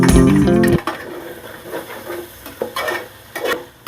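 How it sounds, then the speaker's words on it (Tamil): Chopped tomatoes go into a hot frying pan for vegetable biryani and are stirred, giving a soft sizzle with scattered scraping and clinking after a brief louder tonal opening. "தக்காளி சேர்க்கிறேன்."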